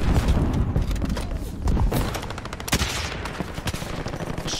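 Dense, rapid gunfire fills a Call of Duty Warzone match, with overlapping shots and thuds throughout at a loud, busy level.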